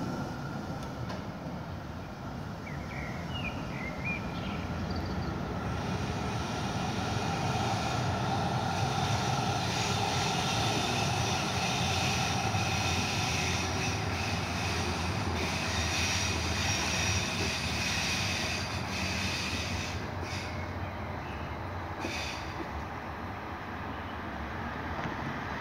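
A train pulls out of Grunewald station with a broad, steady rumble that swells and holds, topped by a few brief high squeals, moderately distant with no voices.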